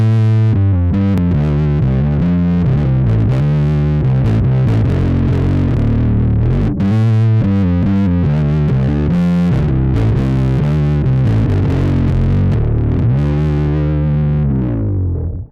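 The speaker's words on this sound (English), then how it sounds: "Let's hear the fuzz on its own." A bass guitar runs through the fuzz section of a Mastro Valvola OFF1 octaver, fuzz and filter pedal, giving a thick, loud, distorted line of driving notes played continuously with a brief break midway.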